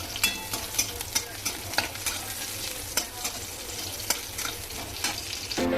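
Green chillies, dried chillies and garlic fry in ghee for khichuri, with a close, steady sizzle and a run of crackling pops and spoon scrapes at an irregular rhythm.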